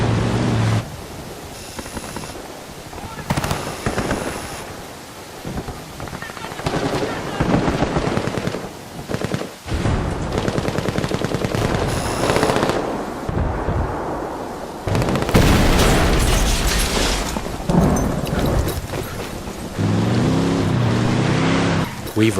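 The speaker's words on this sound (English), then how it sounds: "to provide further disruption, we blow that C4 we placed earlier" C4 explosion and gunfire in the Ghost Recon Wildlands video game during a night gunfight between rebels and Santa Blanca cartel, loud sustained bursts of automatic fire and heavy blasts with booming rumbles, nearly continuous throughout.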